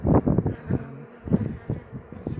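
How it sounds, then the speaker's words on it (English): A small cast swarm of fewer than 200 honey bees on a rooftop chimney hive, buzzing in uneven pulses with a low droning hum, close by and fairly loud. "So less than 200 bees."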